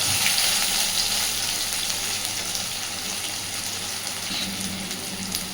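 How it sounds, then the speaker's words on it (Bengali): Soybean chunks fry in hot oil in a pan, giving a constant, close, broadband sizzle that holds steady throughout with no voices. "নাড়াচাড়া করে সুন্দর করে বেশ একটু লালচে করে সয়াবিনটাকে ভেজে নেব"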